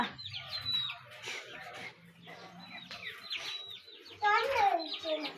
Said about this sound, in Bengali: এই যে আমরা সাথে সাথে দাঁড়ায় পড়তেছে মুরগি।